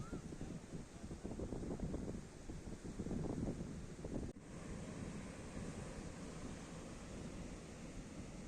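Sea waves break on the rocks at Surathkal lighthouse beach, a continuous loud wash of surf with heavy wind buffeting the microphone and no voices.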